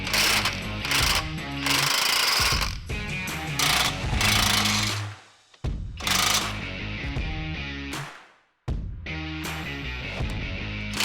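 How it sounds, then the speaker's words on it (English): A power impact tool removes a steering stabilizer bolt from the axle bracket of a 2022 Jeep JLU, a loud close rattling hammer in bursts of a few seconds, with brief pauses between runs. "I'm going to go ahead and remove this bolt holding the stabilizer to the axle bracket."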